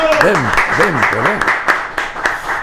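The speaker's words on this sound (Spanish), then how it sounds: "damos la bienvenida con un caluroso aplauso a Marcelo Demp" Studio audience welcoming a guest with applause, steady clapping mixed with swooping whoosh-like sound effects and some voices.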